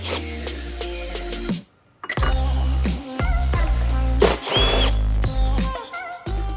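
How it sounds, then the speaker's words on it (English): A power tool whirs in repeated short bursts with brief pauses, removing 8mm coil pack bolts on a 2017 Shelby; the drill motor sounds close and loud. "grab your 8mm and undo the bolts"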